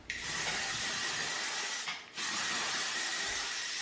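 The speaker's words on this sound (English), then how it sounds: "All right, so let me spray this now. I'm gonna use my new hairspray from Hairitage" Hairspray from a Hairitage can hissing in two long continuous bursts onto a pixie cut, with a brief pause between them, close and loud.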